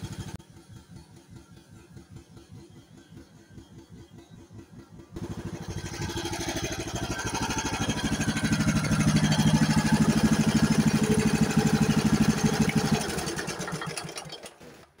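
A small MTD lawn tractor engine, newly repaired with a replaced head gasket, chugs with a steady, rapid putter, then grows louder and rougher after a few seconds before easing slightly at the end.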